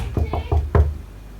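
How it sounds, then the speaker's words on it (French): Four loud knocks on a wall, quick and evenly spaced, with the last one heaviest and echoing a little. "Un bon gros toc toc toc toc qui va bien celui-là. Il résonne bien."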